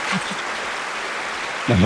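A studio audience claps to welcome a guest onto a Turkish open-mic talk show, a steady wash of applause, with a voice cutting in over it right at the end.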